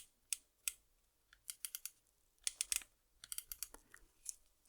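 Arcade stick buttons click in quick bursts of two to four crisp taps, separated by brief pauses. The clicks are close and isolated over a quiet background.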